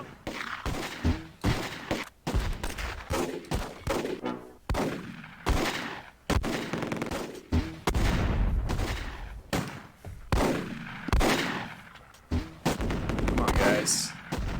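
Machine gun fire in the Close Combat war game: repeated bursts of rapid gunfire and sharp shots throughout, loud and close, with brief speech mixed in.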